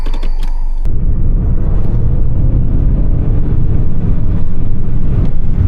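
A Honda Accord with multiple dashboard warning lights driven on the road, its engine and tyre rumble a steady, loud, low drone throughout after a brief clattering start.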